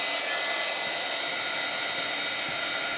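An embossing heat tool blows over a stamped image on a junk journal cover, a loud, close, constant hairdryer-like rushing hiss throughout.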